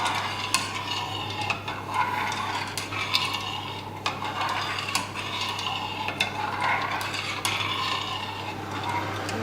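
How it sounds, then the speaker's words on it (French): Consommé being stirred gently in a pot, with soft rhythmic scraping and occasional metallic clinks of a utensil against the pot over a constant low hum. "je mélange gentiment le consommé, ou le futur consommé"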